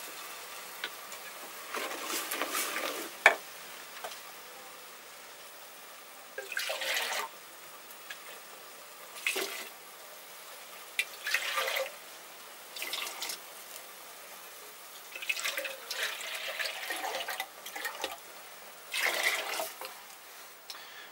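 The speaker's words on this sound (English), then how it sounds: "Some additional cooking water, about a liter." Water poured into a minestrone soup pot in irregular bursts, each a few seconds long with quiet gaps between, moderately faint and close.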